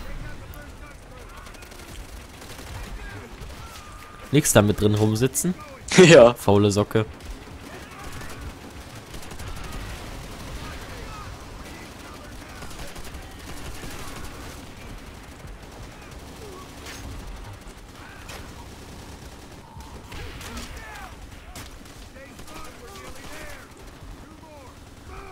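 Bursts of gunfire in World at War zombies mode, a dense rattling volley of shots around the five-second mark under casual conversation, with quieter game sounds and talk continuing afterward.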